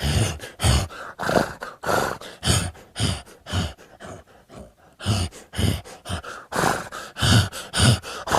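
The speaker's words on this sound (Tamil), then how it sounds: "அப்புறம் அந்த மூச்சு விடுற சவுண்ட்" Heavy horse breathing, built as one layer of a film sound effect, comes close up in rhythmic gasping huffs and snorts, each breath sharp and forceful, briefly easing off in the middle before resuming.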